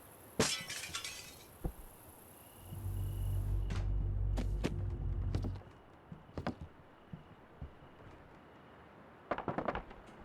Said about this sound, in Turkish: Şimdi şu cam patlatacağız.